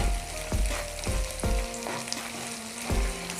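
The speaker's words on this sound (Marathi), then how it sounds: "म्हणजे कसं असं हलवत राहिलं ना याच्यामध्ये तर लवकर अशी आपला मसाला वाटण केलेलं आहे ना ते भाजेल" Ground masala paste frying in a pan while being stirred, a steady close sizzle broken by several rhythmic scraping strokes of the spoon, with no voices.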